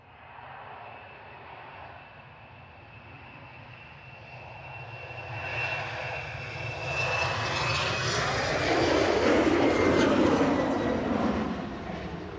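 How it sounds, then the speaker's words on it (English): An Air France Embraer 190 airliner departs from Manchester Airport, its jet engine roar building steadily from a distant rumble to a loud, broad sustained rush that peaks near the end, with no talking. "Air France heading back to Charles de Gaulle, FHBLL, an Embraer 190"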